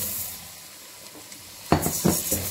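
Rice toasting in a pan with golden onions for a risotto, a soft continuous sizzle broken by a few sharp scrapes and clinks of a spoon stirring near the end.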